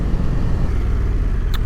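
A 2022 Triumph Tiger 1200 GT Pro motorcycle trails into a corner on a twisty road, its steady low engine drone and wind rumble running continuously without any voices.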